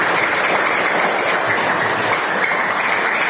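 Steady, dense applause from a classroom of students fills the space, loud and continuous for a few seconds, with no voices standing out.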